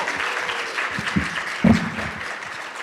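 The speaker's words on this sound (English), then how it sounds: "Let's give another round of applause for our students." Audience applause for students at a Penn State Three Minute Thesis competition: steady, moderately loud clapping from a crowd, with a few louder individual claps standing out near the middle.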